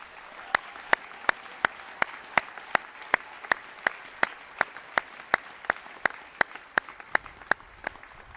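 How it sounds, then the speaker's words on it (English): Crisp claps ring out in steady unison rhythm, about two or three per second, evenly spaced over a quiet background, at an Air Force basic military training graduation ceremony. "Let's give them one big round of applause."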